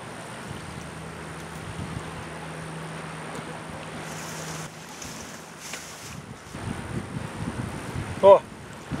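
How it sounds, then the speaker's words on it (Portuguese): Wind blows across an open fishing boat, making a steady rushing buffet against the microphone that shifts in strength partway through. A brief close knock comes near the end. "Com vento e tudo."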